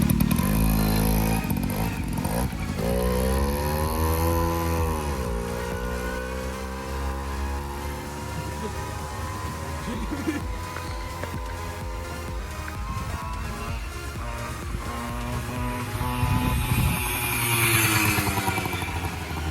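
A renovated veteran moped engine runs on a test ride, its buzzy two-stroke note rising and falling through several revving sweeps and gear changes, steady and fairly close for the whole stretch.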